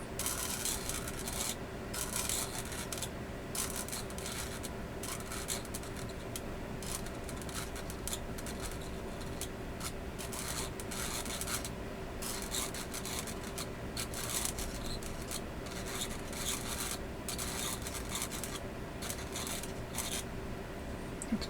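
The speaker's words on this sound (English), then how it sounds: "I'm kind of rubbing it back and forth" A soldering tool is rubbed back and forth on a watch dial foot, producing a faint, steady scratchy rasping close by, with repeated light strokes and no talking.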